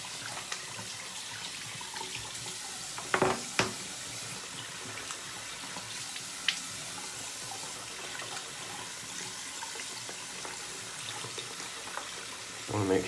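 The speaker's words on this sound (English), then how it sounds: "just adding some water to my brush" A bathroom tap runs steadily, filling and wetting a shaving brush, a continuous soft splashing stream with a few brief clinks and knocks along the way.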